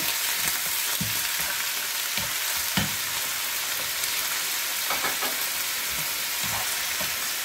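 Chopped tomatoes fry in a hot pan with a constant, dense sizzle, and a utensil stirring them makes occasional soft scrapes and taps, close up with no voices.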